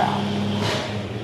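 A 1970 Dodge Charger R/T engine revs briefly, a loud close rumble rising and falling under the idle.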